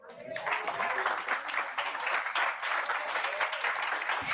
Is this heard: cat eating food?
no